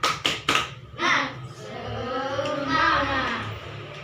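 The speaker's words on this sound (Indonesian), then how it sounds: "kita tepuk semangat dulu. Tepuk semangat" Schoolchildren in a classroom perform a spirited clapping chant, several sharp rhythmic claps up front followed by voices chanting together, with a few more claps under the group voices.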